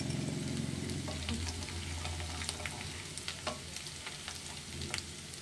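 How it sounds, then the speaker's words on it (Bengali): Dry chili powder and masala fry in hot oil for a Bengali-style perch fish curry (tel koi), a steady close sizzle with a low hum and scattered crackles and scraping stirs throughout, no voices. "মশলাটা কষে এসছে"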